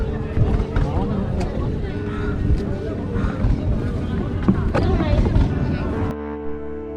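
A boat engine drones under the rush of wind and water in the Sundarbans, with indistinct voices nearby; the engine settles into a steady hum at the end.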